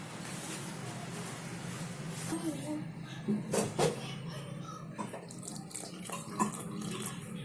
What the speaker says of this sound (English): Add water as required.